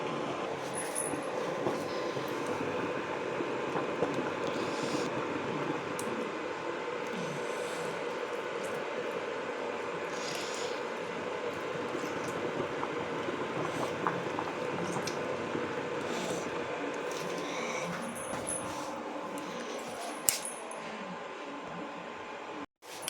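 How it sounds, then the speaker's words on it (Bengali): Rice boiling in a pot for oil-free fried rice, a steady broadband bubbling roar that holds evenly throughout, close and continuous with no voices. "এবার ভাত ফুটে গেছে, আর একটুখানি ফুটবে।"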